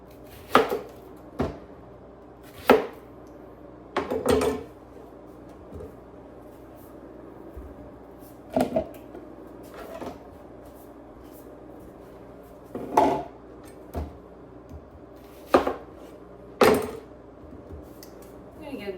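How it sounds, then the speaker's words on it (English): A knife cutting a red onion into chunks on a board, heard as sparse, irregular sharp knocks separated by quiet pauses, with occasional light kitchen clatter. "Next, I'm gonna chunk up a red onion"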